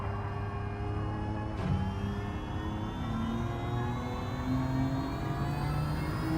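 A race car in Gran Turismo 7 brakes and downshifts, its engine whirring and stepping through gears in a continuous mid-pitched drone, with a brief sharp blip partway through and no talk.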